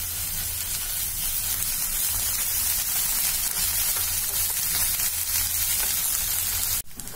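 Onion and ginger-garlic paste frying in oil in a pan for a prawn malai curry, with a steady loud sizzle that holds almost unbroken and then dips briefly near the end.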